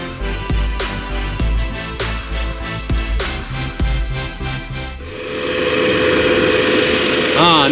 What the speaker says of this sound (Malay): Ni dia enjin 3 silinder masa idle